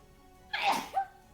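A single sharp sneeze, close and fairly loud, with a quick second burst at its tail.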